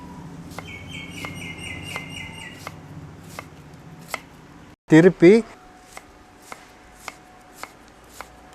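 A knife finely chopping onion on a cutting board makes steady, evenly spaced taps close by, running beneath continuous talking and pausing briefly during a louder spoken burst.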